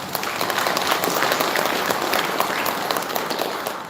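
Steady, dense applause from a Buddhist temple congregation at a Sunday dharma service, congratulating a newly married couple; the clapping stays loud and even throughout, with no voices over it.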